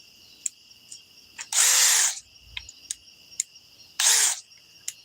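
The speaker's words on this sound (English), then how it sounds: "Now let me get the DeWalt back over here. Here's the 801." A DeWalt 801 impact driver runs in two short bursts of about half a second each, loud and close, separated by quiet clicks and small handling taps.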